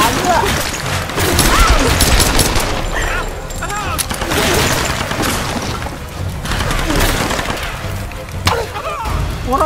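Rapid bursts of gunfire in Tomb Raider crackle and pop in dense volleys, loud and close, with a voice talking over the shooting.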